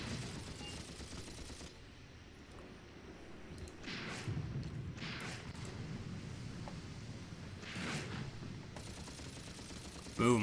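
A distant, faint battle plays out in the WWII tactics game Graviteam Tactics: Mius Front, with dull thumps of explosions and rattling gunfire over a low rumble of wind, plus a louder burst right at the end.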